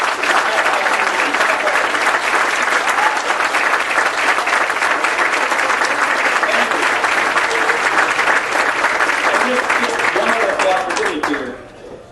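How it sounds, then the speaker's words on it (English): An audience at a political leadership summit applauds military veterans, sustained loud clapping from a large room that carries evenly before tapering off quickly at the end. "let us give you a round of applause for what you have done"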